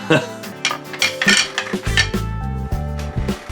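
Small plastic and metal parts of a 1968 Hot Wheels Sizzlers speed brake toy accessory clatter and clink as they are handled, with irregular close knocks and rattles over a steady low musical background.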